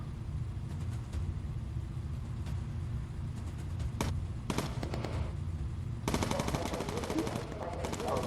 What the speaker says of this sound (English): Focus fire there for us, please, Mr. Peely.